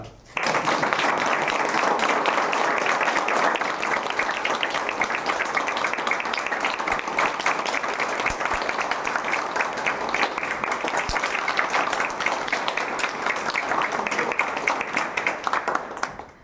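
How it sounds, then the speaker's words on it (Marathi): Sustained loud applause from an audience at an achievers' celebration event, steady dense clapping filling the whole stretch with faint voices mixed underneath. "सो जोरदार टाळ्यामध्ये की जा."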